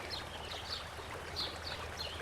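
A paintbrush swished and rinsed in a water cup while painting a mug design, giving a soft, steady trickling slosh with small splashy bursts, fairly quiet and alone.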